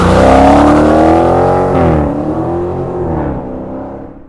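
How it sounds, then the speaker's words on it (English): The 2017 Dodge Challenger R/T Scat Pack V8, rated at 485 horsepower, revs loudly and close by, a deep roar that climbs, drops, then swells again in a second rev before fading, with no voices. "Behind me is the Dodge Challenger RT Scat Pack. 485 horsepower, 475 pound-feet of torque."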